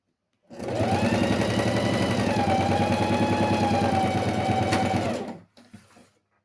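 A freshly lubricated sewing machine topstitches synthetic material for a toiletry bag, giving a steady, close, rapid whir that runs unbroken for about five seconds before stopping abruptly.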